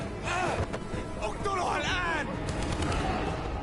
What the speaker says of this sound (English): It's the same gunfire in two scenes.